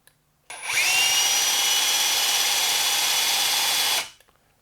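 A small battery rotary hammer drill spins up sharply, holds a high steady whine for about three seconds, then winds down and stops.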